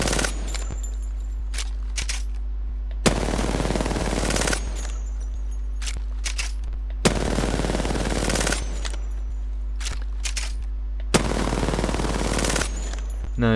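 Bursts of automatic gunfire from a shooter video game: three long, loud volleys, each a few seconds long, separated by quieter stretches of lighter single shots and a steady background hum.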